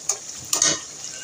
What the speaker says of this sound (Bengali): এখন আগে থেকে যে ভেজে রাখছিলাম সেই মাংসটা এখানে দিয়ে দিলাম।